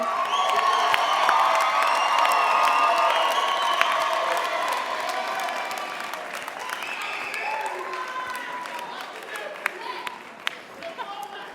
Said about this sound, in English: with applause indicate your appreciation for the support they have given you